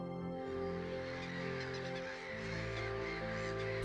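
Birds on the exposed sandy islands of an artificial lake, with a loud chorus of goose-like honking and calling from a nearby flock, continuous and layered over the whole stretch.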